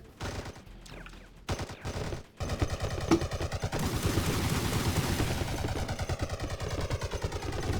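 Cannons firing in the video game Attack On Toys, a dense, continuous volley of gunfire-like blasts that runs almost the whole time, loud and steady with a few brief gaps near the start.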